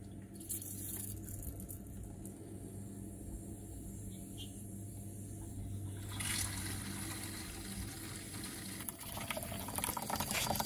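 Water from a garden hose attached to a spigot running into a bucket for an automatic dog waterer, a steady, faint hiss and trickle throughout, growing a little brighter and splashier partway through, with no talking.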